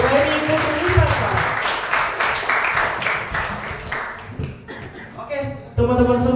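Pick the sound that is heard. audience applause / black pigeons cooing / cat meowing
audience applause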